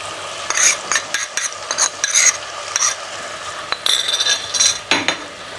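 Ground red chili, salt and spices tipped into a pan and stirred while cooking Punjabi-style chicken with arvi, close scraping and clinking stirs over a faint sizzle, no talk.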